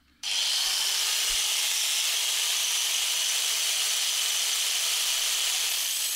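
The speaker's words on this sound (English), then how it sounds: "First, angle grinder." An angle grinder cutting metal, shrieking as a loud, steady, high-pitched whine that starts abruptly and holds without a break, with no talk.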